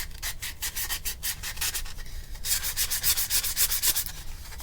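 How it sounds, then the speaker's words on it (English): The edges of a guitar back plate are hand sanded with 220 grit sandpaper, making close, rhythmic back-and-forth rasping strokes that run in quick bursts with a short pause midway. "220 grit, and we're just gonna go around the edges."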